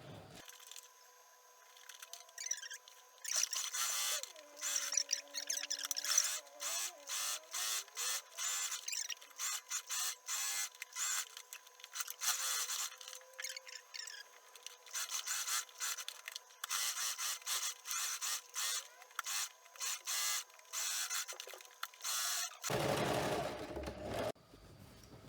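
Sewing machine stitching a pocket onto a garment, its rapid mechanical whirr running in repeated bursts of varying length with short pauses between them, close and fairly quiet throughout, with no talking.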